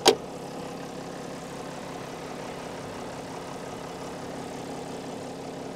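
A car engine idling smoothly and steadily at close range, a low even hum with no roughness, preceded by one brief sharp knock at the very start.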